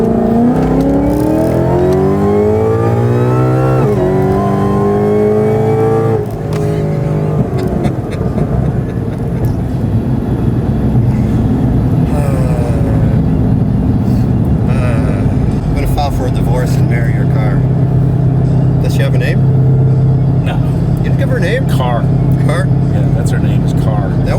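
An 860 wheel-horsepower Ford Mustang pulls hard from 40, its engine note climbing steadily through a loud, sustained acceleration with a gear change partway, while people talk over it and the roar settles into a steady high-speed drone.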